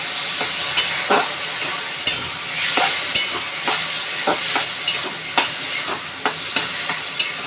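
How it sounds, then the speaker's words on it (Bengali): A spoon stirs a taro stolon and shrimp curry in a pan just after lemon juice goes in: repeated scraping strokes over a steady background sizzle of simmering, with no talking. "এবার লেবু রস দেব একটু, দিয়ে একটু নেড়ে চেড়ে নেব।"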